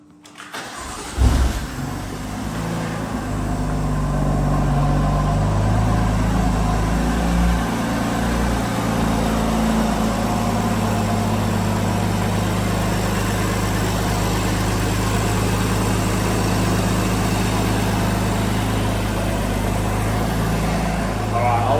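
BMW M4 starting up after a rebuild, with a suspected valve stem seal or turbo problem: a short cranking burst, a loud catch and flare, then a steady low idle droning on close by for the rest.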